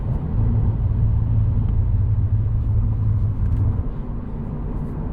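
Cadillac CT4-V Blackwing engine droning steadily from inside the cabin on a highway drive, a low rumbling tone holding even and then easing slightly near the end, with no talking.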